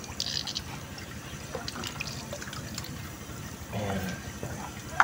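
Water poured and splashed over a spin dryer motor being rinsed, a close trickling and dripping stream with a louder gush near the end.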